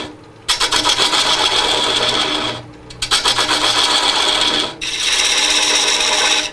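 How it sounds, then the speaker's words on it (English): A carbide cutter carves a shallow recess into a frozen wood bowl, producing loud, close, continuous rasping in three long bursts separated by brief pauses. "I'm just going to start worrying the wood away, and I'm going to make a recess that's probably 3/16 of an inch deep."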